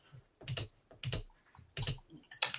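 Typing on a computer keyboard, heard up close as several quick bursts of key clicks separated by short pauses, with no voices.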